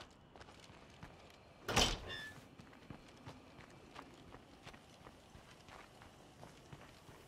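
A back door opening in a zombie survival video game, one sharp sliding thump and creak, then faint repeated footsteps over a quiet background.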